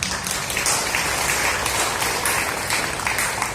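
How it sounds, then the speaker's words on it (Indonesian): A crowd of staff and teachers at an Islamic school assembly applauds, a loud, continuous roar of clapping that fills the whole span without pause. "Boleh tepuk tangan"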